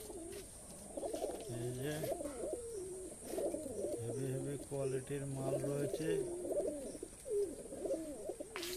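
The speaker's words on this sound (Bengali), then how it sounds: "এখানে ভ্যারাইটিস পায়রা বিভিন্ন ধরনের।" Fancy pigeons of several breeds, including Madrasi, Bihari, Shahjahanpuri, Kalshira and Napta, coo steadily in a crowded loft or market, with repeated low throaty calls running beneath someone talking close by.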